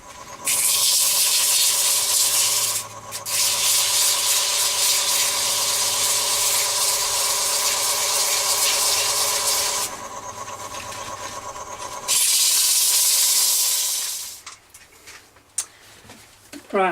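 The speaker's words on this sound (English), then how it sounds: "I've sanded this down now to 1200 grit, which I think is enough for this application." Abrasive paper pressed against a spinning turned wood piece on a lathe, worked down through finer grits to 1200; a loud, steady broadband hiss with the motor hum beneath, breaking briefly around three seconds and again near ten, then fading out at the end.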